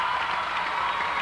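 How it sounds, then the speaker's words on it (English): A crowd cheers for player Scott Jones at a 1992 high school hockey state championship game. The roar and applause are loud and sustained, filling the whole moment. "Quite a cheer going up for Scott Jones. In fact, a prolonged one."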